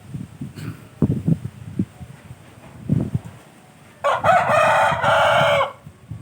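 A rooster crows loudly once near the end, a long strained call, after stretches of low murmuring voices and background noise.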